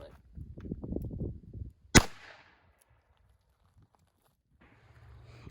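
A single sharp .38 Special gunshot, a 158 grain lead semi-wadcutter fired from a 3-inch revolver into a test block, cracks loudly and close after a man's speech, then fades into near silence.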